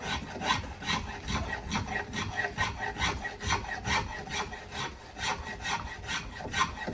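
A spokeshave shaves a wooden guitar neck during carving, giving a steady run of rhythmic scraping strokes, close and moderately loud, with no voices.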